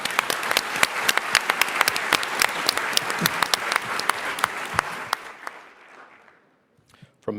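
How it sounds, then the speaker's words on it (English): An audience at a startup competition final claps loudly and steadily for about five seconds, then the applause thins and fades into near silence, with a few scattered claps at the end. "Give a round of applause."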